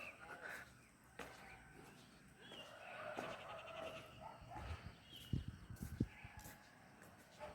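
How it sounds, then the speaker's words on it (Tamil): Faint, distant dog barks, a couple of short yaps, break through soft morning outdoor ambience. "நாய்க்கு உரைக்கிற சத்தமும் கேட்குது."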